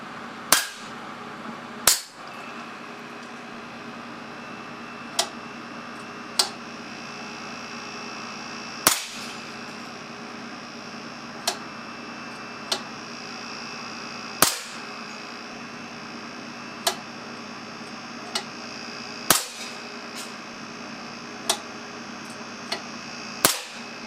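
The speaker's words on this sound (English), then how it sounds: "I'll now fire a few 177 lead pellets out of this cannon." A series of sharp, loud shots from an air cannon firing .177 lead pellets, about a dozen, fired at irregular intervals with quiet pauses between them.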